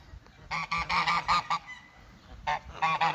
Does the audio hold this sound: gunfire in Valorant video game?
no